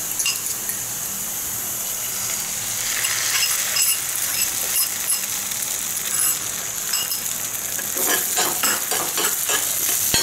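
Egg mixture seasoned with chili powder and salt fries steadily in a pan, giving a constant sizzle with occasional clinks and scraping stirs, brisker toward the end, and nobody speaking.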